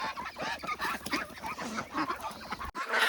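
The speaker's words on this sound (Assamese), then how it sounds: "এইবিলাক হাঁহ।" A flock of farm ducks about 75 days old gives a dense, continuous chorus of nasal quacks and honks close by. The sound cuts out abruptly near the end, then resumes.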